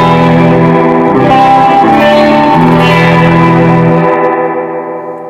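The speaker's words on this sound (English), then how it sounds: "F-bomb spring reverb." An electric guitar played through an Fbomb 6G15-style spring reverb tank, splashy and drippy, chords ringing out with a wet echoing tail before fading.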